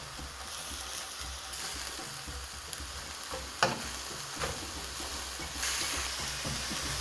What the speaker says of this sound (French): Je vais laisser cuire ma farce tout en remuant de temps en temps